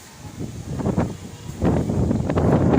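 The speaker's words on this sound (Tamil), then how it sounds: "சரியான காற்று அடிக்குது" Wind blows hard across the microphone in rising gusts, a low rushing roar that grows louder toward the end, with faint rustling.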